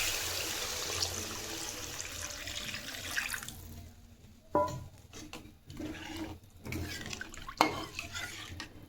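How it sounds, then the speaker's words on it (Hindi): Water poured from a tap into masala for jackfruit kofta gravy, a hissing stream running for a few seconds, then stirring and clinking of a spoon against the pot in short bursts. "अब हम ग्रेवी के लिए पानी डालेंगे इसमें।"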